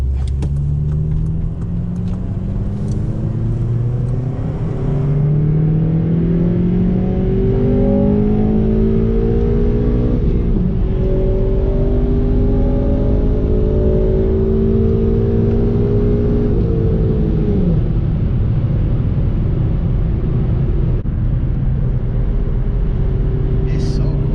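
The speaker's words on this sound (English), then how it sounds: "we hitting the highway right now. About to feel some VTEC." An 8th-generation Honda Civic Si accelerates hard on a highway, its engine note climbing through rising revs with gear changes and a steady road rumble; voices talk in the cabin under the engine.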